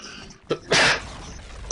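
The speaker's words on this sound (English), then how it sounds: "I've got to sneeze." A single sneeze bursts out close to the microphone, with a short intake of breath just before it and quiet room tone around it.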